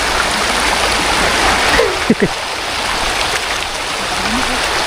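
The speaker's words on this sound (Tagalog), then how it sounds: "Lawak ng ilog dito." A wide river flows in a steady, loud wash of rushing water that fills the whole stretch, with a few brief faint voices breaking through near the middle and end.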